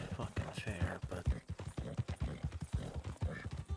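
In a Wild West role-play video game, a horse's hooves clip-clop in a steady walking rhythm with a brief whinny, close and clear, while someone speaks quietly over them.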